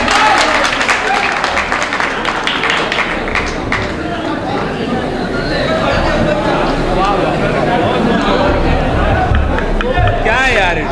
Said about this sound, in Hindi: भाई जोरदार तालियां एक मरतबा होनी चाहिए।